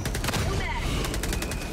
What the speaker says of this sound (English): The sound effects on this autocannon are so, like, chunky.